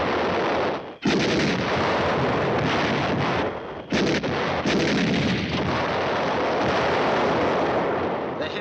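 Artillery fire in a 1951 war film, a sustained heavy roar of booming guns and explosions, loud and continuous with a few brief gaps between blasts.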